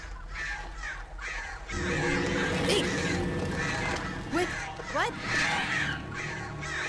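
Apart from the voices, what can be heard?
birds screaming in the video game Alan Wake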